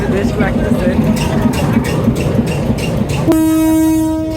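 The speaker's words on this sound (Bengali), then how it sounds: "আবার ট্রেন ছেড়ে দিল" A train pulls out of Altafnagar station with rhythmic wheel clatter, then a loud sustained horn blast near the end, while someone speaks briefly over the noise.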